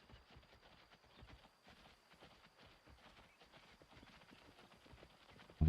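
A group of wild hogs moves close by in the Way of the Hunter hunting game, their hooves giving a steady, fairly quiet patter of rapid trotting steps throughout.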